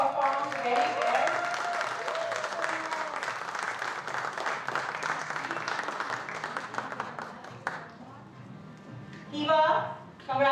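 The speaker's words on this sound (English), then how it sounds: "Please clap for them." An audience claps steadily in a dense burst of applause at an open mic event, fading out as a voice begins speaking over the tail end.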